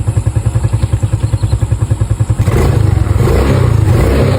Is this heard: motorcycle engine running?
yes